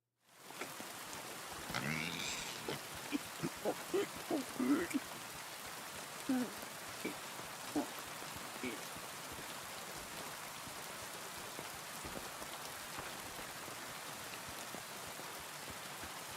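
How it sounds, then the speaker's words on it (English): Rainfall in the video game Kingdom Come Deliverance II, a steady soft hiss of drops lasting throughout, while a voice speaks briefly over it early on. "I could feel raindrops tickling my elbows then for a split second. The sound of the rain was that good."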